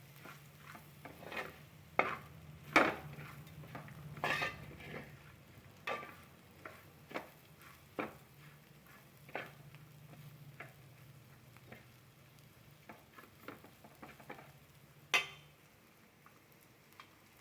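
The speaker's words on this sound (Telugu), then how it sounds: "చిటికెడు గరం మసాలా వేసి కలుపుకోవాలి" Bitter gourd fry with garam masala is stirred in a pan. A soft, steady sizzle runs throughout, and a spoon scrapes and clacks against the pan at irregular intervals. The sound is close but fairly quiet, with no talking.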